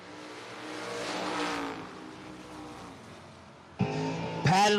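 Drag racing cars roar down the strip at a bracket race, an engine note building and holding steady before sharper bursts of revving near the end, loud and close with no talk.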